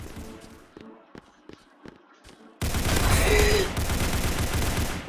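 Gunfire in the shooter game Rush Point during a deathmatch: a few sharp separate shots at first, then a sudden loud, dense burst of rapid fire lasting a couple of seconds before fading to a steady noisy background.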